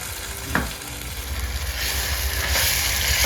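Masala cooks with tomato puree in a pan, a close, steady sizzle and bubbling with a brief scrape of stirring near the start.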